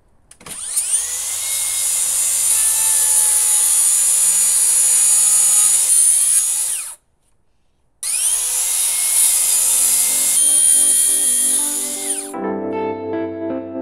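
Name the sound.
power tool cutting timber cladding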